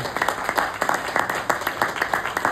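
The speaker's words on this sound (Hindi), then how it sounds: "मैं आपका यहाँ से तालियों से और आप लोगों से चाहूंगा एक बार स्वागत करें ऐसी लवली टीम का" An audience at a direct-selling company event claps in welcome for a team, a steady, dense round of applause from many hands at close range.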